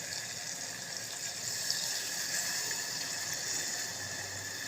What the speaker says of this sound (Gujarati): હવે રસો થાય એટલું પાણી નાખશું.